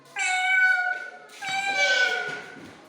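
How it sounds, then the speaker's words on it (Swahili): A domestic cat meows twice in quick succession: two clear, drawn-out calls close to the listener, with a short gap between them and no talking. "A cat."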